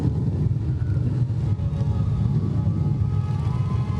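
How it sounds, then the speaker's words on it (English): A motorcycle club rides past in an Independence Day parade in Oceanside, producing a steady, continuous low engine roar with a constant drone and no breaks, heard without anyone talking. "Let's just listen to them. you hear that roar?"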